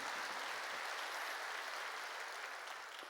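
A church congregation at a New Year's Eve service claps together in a steady, dense burst of applause that fills the room evenly, heard on its own without any talk.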